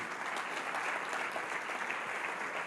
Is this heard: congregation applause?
yes